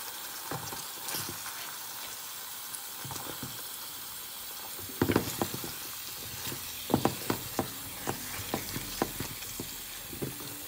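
Chili peppers frying in a pan on the stove, a steady sizzle and hiss under scattered clicks and scrapes of stirring that grow busier in the second half.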